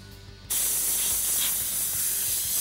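A steady, close airbrush hiss of spraying paint onto a car starts abruptly after a short quiet moment and continues evenly to the end.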